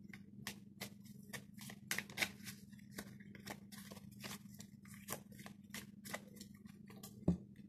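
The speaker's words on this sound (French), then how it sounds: "je brasse les cartes" Oracle cards are shuffled by hand in a quiet room, giving a run of soft, quick papery flicks and slaps at an irregular rhythm, close and faint over a low steady hum.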